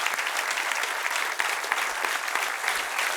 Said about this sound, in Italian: On peut vous applaudir, merci d'être là.